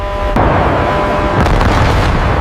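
Loud explosion sound effects of airstrikes at night over Iran, a sharp blast followed by another burst about a second later, over a heavy continuous low rumble.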